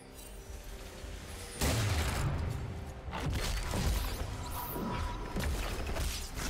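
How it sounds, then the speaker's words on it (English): A defensive turret collapses in League of Legends: a sudden crashing burst of rubble and impact noise that breaks into a quieter game soundscape, then lingers as scattered rumbling debris. "Blue team's turret has been destroyed."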